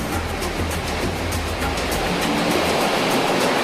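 Ocean swells surge and break around small traditional fishing boats, a loud, continuous rushing wash of surf close by with no voices.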